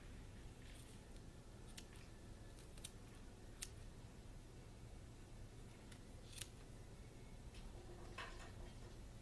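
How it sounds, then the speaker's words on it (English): Scissors snipping through the wrapped yarn loops of a craft pom-pom: a quiet, close series of crisp, irregularly spaced cuts. "So again, I'm going to cut my loops."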